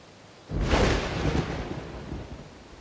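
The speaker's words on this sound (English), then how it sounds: "Because I have the storm." A thunderstorm in the video game Dawn of Man: after a short quiet moment a loud, deep roll of thunder breaks in with hissing rain, slowly fading over several seconds.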